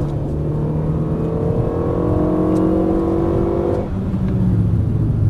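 A race car on the Dreux circuit accelerates hard in third gear, its engine note climbing steadily loud and close before easing off briefly and pulling again.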